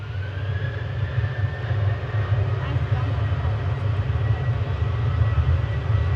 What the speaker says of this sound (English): Ryanair departing in front of us to Barcelona, flight 7542